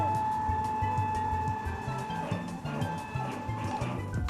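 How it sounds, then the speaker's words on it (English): A CNC plasma table drives its torch across the workpiece, the gantry motors whining with stepped, shifting tones in a continuous, close mechanical hum. "we're gonna drive the torch until it's over our work piece"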